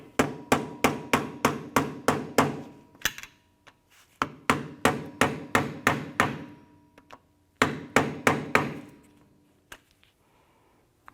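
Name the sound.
prying up wheel hub spindle nut lock tab with flathead screwdriver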